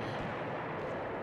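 Bombs exploding in the video game Eternal Darkness, a dense, continuous low rumble of blasts with crackling grit, steady and loud throughout with no gaps.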